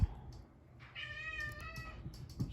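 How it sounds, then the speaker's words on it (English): A cat meows in one drawn-out, whining cry that wants up onto a worktable, fairly close and moderately loud over a quiet room with a faint thump at the start and end. "Sorry about that cat, he's just whining."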